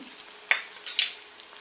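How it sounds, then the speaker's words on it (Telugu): Garlic paste frying in a pan for an aloo kurma, with a soft steady sizzle and a few sharp stirring scrapes of a utensil against the pan. "వెల్లుల్లి పేస్ట్ ఇది బాగా ఎర్రగా వేయించుకోవాలి"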